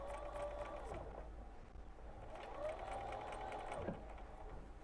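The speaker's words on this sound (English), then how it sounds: "I'm going to start sewing" A sewing machine stitches a melon-shaped quilt piece for a wedding star table topper, a faint steady motor hum with soft rising and falling whirs as the speed changes.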